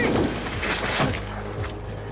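Gunfire cracks out in a World War II North Africa battle scene, a few sharp reports with booming echoes in the first second, followed by a low rumbling tail.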